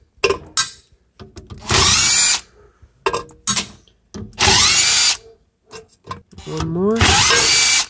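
A power drill backs perimeter screws out of a Lennox Pulse furnace valve housing in three loud, close bursts of a couple of seconds each, separated by brief talk and clicking handling noises.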